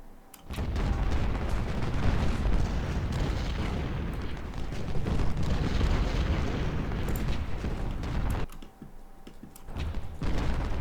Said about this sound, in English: There's a lot of cannon up here.